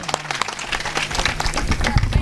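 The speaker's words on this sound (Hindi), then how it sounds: "जोरदार तालियां।" An audience claps loudly at a devotional Bhagavat gathering with singers, a brief burst of dense clapping that swells toward the end.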